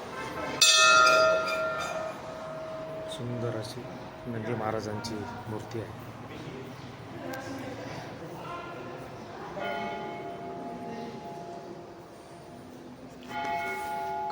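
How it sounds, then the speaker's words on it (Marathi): A large bell at a Maharashtra temple rings with bright metallic strikes that decay and ring on, heard intermittently beneath someone speaking. "ही किती मोठी घंटा आहे बघा इथे"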